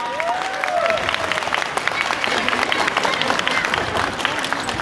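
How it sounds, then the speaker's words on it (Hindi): Steady crowd applause at a live comedy show in London, dense overlapping claps at moderate volume, with a faint voice audible briefly near the start. "पहली दफा तालियां हो जाए जोरदार।"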